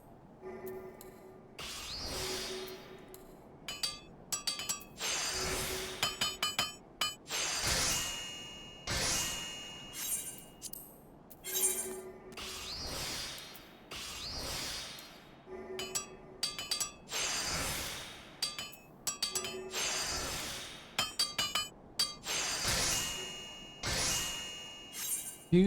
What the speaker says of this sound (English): the sound of a hammer on an anvil